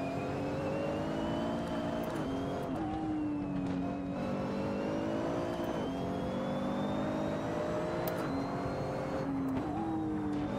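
A GT3 race car is driven hard along the winding Tail of the Dragon road at Deals Gap, its engine droning steadily and rising and falling through shifts and corners, loud and close throughout with no talk.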